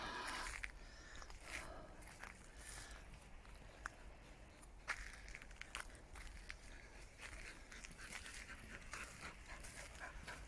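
A wet dog pants steadily close by at a replica of Liverpool Castle, with quick breaths under a rustling, noisy outdoor background and some faint scuffs.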